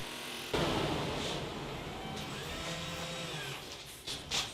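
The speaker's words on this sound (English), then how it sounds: "So I'm cutting a board 50 thousandths of an inch thick and cutting quite slowly." A band saw with a WoodSlicer blade slowly rips a board fifty thousandths of an inch thick, a steady whirring, rasping drone from the motor and cut that holds throughout at close range.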